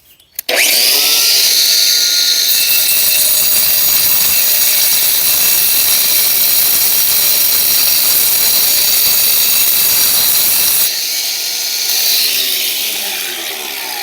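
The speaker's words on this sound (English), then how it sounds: "So you've just let the weight of the grinder do its thing, follow your line as best you can, cut a little bit further" An angle grinder cuts a paver with a loud, continuous high-pitched whine and grinding roar held for about ten seconds, then the pitch drops as the disc winds down.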